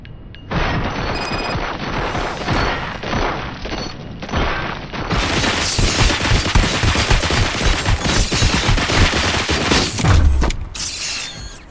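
Heavy, sustained gunfire in the video game RoboCop Rogue City as officers open fire on a machine at a police station, with dense volleys, crashes and booms building after a quieter, mechanical opening.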